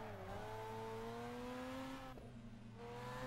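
A Mazda RX-7 rotary engine drones in the Assetto Corsa racing game, a steady, tonal engine note rising slightly, dipping briefly at a gear change, then continuing alone.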